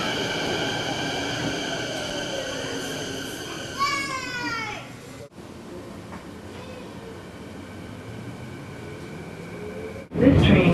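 A Canada Line train at a station, a steady rumbling hum with rising tonal whines as the train moves, brief voices of people nearby, and a sharp louder burst at the end.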